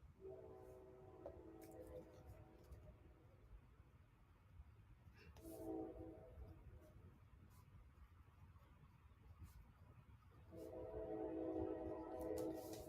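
A passing train at night sounds its horn in three sustained blasts, one at the start, one midway and a louder one at the end, over a steady low rumble.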